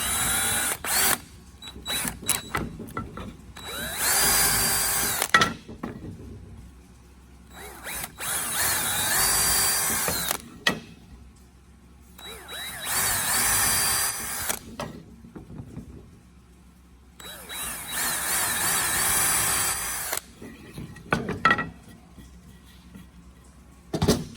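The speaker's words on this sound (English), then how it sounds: "Every 7 inches, we're just going to put a little pilot hole here." A power drill bores pilot holes every seven inches along a board for a folding table in a 1995 Prevost bus, four loud bursts of whirring a few seconds each, separated by quiet pauses with light clicks and handling.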